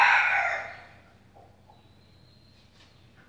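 A single loud crow from a Índio de Briga fighting rooster opens, close by, then fades to a quiet yard with faint background noises.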